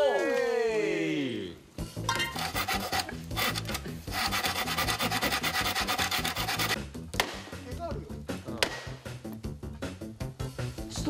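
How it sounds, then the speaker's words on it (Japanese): A hand saw rasps through bamboo during bamboo-shoot digging, repeated back-and-forth strokes, close and harsh, with voices chattering over parts of it. "もう一回ノコギリで切っていいですか。"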